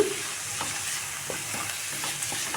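Masala and grated carrot frying in a pan with no onion, a steady oily sizzle punctuated by soft scraping stirs of a spatula at regular intervals, close and alone without voices.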